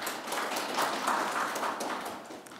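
Audience applause welcoming a speaker at a policy forum on a civic unification movement, a steady wash of many hands clapping at moderate loudness without voices over it.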